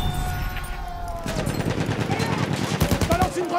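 Rapid, sustained machine gun fire rattles close and loud in Battlefield 1 combat, a dense stream of bursts over a busy battlefield din, with a voice briefly audible early on.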